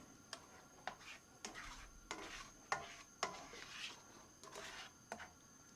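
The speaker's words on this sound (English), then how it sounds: "Keep stirring constantly." Saffron-infused milk mixture being stirred in a pan for a Bengali sandesh dessert, quiet rhythmic spoon strokes with repeated clicks against the pan over a faint simmer.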